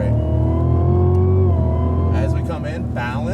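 Race car accelerating out of a slow corner on a circuit, a loud steady engine tone rising in pitch from inside the car, with someone talking over it toward the end.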